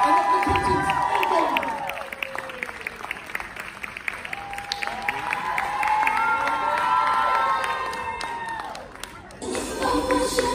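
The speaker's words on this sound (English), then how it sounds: "A round of applause!" An audience at a medical student talent show claps and cheers loudly, with whoops and shouts over steady applause that swells and then briefly dips near the end.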